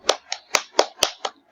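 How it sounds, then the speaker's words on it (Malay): In a classroom lesson, a handful of sharp, separate claps land in a quick, even rhythm, about six in all, close and clear with silence between them, rather than a full burst of applause. "Semua berikan tepukan."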